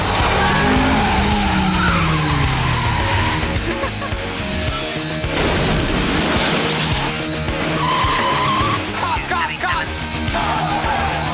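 Race cars skid with loud, sustained tire squeals and roaring engines during filming of a street-racing action movie, with screeches rising and falling over several seconds close up.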